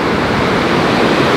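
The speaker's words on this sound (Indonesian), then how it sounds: "Sumpah ini keras banget anginnya, guys, ya." Loud, steady roar of strong wind buffeting the microphone at a southern beach, a dense continuous rush with no pauses and surf-like noise filling the whole clip.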